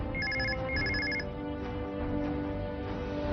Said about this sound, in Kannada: ಅವಳದ್ದೇ ಫೋನ್ ಇರ್ಬೇಕು, ಇರಿ ನಾನೇ ನೋಡ್ತೀನಿ.